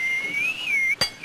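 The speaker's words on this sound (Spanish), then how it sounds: "se está metiendo un chiflón muy feo" A cold draft of wind whistles through a door in a 1993 comedy TV sketch, heard as a thin, wavering high-pitched whistle sustained throughout, broken once by a sharp click.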